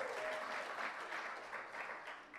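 Soft applause drifts through an award ceremony hall, a steady patter of many hands clapping at a distance, fairly faint and short, with no talking over it.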